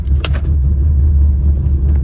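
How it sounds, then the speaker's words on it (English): A car with a damaged exhaust idles with a loud, rough low rumble, breaking into a brief raspy rev near the start before settling back. "you should be able to hear that it's not the best sounding right now"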